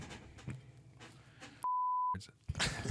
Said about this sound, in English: I'll beep that out